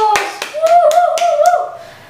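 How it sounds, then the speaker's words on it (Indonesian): A Sunday school church service congregation claps about six separate, evenly spaced claps in a rhythmic pattern, close and sharp, while a sustained voice holds a tone underneath. "Tepuk tangan dulu dong buat Tuhan Yesus."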